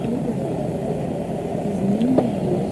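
A car engine hums steadily on the road, a mid-pitched whir with a slight rev toward the end, close and fairly loud throughout.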